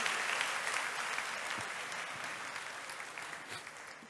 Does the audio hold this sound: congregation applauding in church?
yes